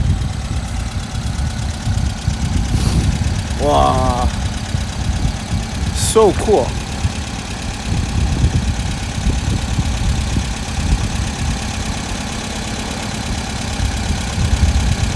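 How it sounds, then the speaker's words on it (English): An original Volkswagen T2 Transporter van idles nearby as a steady low engine rumble running the whole time, with brief speech and passing street noise over it. "You could hear that engine."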